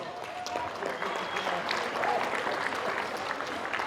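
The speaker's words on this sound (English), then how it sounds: "Round of applause, please." Audience applause at an annual community ball, a steady, moderately distant wash of clapping with some crowd murmur and possible voices underneath, sustained throughout.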